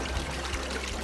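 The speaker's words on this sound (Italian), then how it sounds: "Si tratta di sorgenti di acqua dolce in parte naturali ed in parte opera dell'uomo." Freshwater spring water trickles and pours steadily at the Dovera fontanili, a continuous close-up watery wash with a low rumble underneath and no voices.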